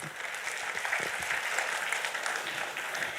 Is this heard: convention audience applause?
yes